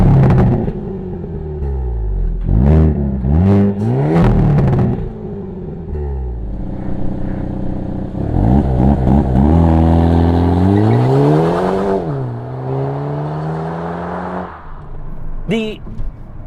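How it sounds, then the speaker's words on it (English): Hyundai Kona N engine in N mode revving hard: several sharp blips, then long sweeping rises and falls in pitch, loud and close with a turbo whoosh, a voice briefly audible under it. "The engine is super responsive when you put it on N mode"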